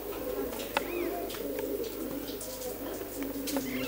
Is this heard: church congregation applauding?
no